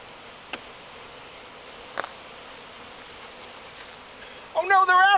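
A honeybee swarm being hived gives a dense, steady buzzing drone close by, with a few faint knocks, and a person starts talking at the very end.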